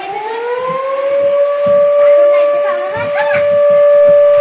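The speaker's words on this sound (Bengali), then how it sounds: "পাশ থেকে খুব জোরে সাইরেন বাজলো" A loud siren from the old Alipore jail sounds nearby, a sustained wailing tone rising then holding steady and strong, with faint scattered background voices underneath.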